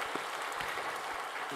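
A church congregation at a Sunday worship service applauds to welcome newcomers, a dense steady patter of many hands clapping throughout.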